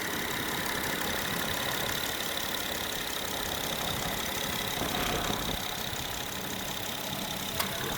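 The J35 V6 engine of a 2013 Acura TSX Tech idles smoothly and quietly, a steady, even hum held close for the whole stretch.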